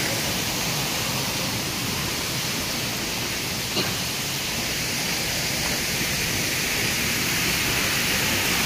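Steady roar of falling water, a constant broadband rush from Inambakan Falls in Ginatilan, Cebu, heard close by, unbroken throughout.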